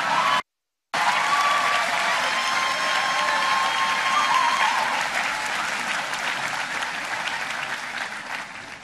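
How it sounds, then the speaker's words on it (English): A crowd at a Mitt Romney campaign rally in West Allis, Wisconsin bursts into loud, sustained clapping that begins after a moment of silence, then gradually thins and fades over several seconds. "Sure, you can clap for them."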